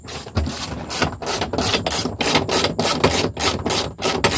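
Hand ratchet working on the seat mounting bolts inside a 2006 Honda Civic during an interior teardown, a steady run of quick, close clicking strokes repeating over several seconds.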